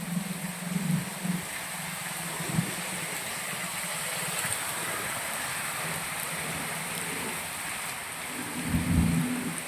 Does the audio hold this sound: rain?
yes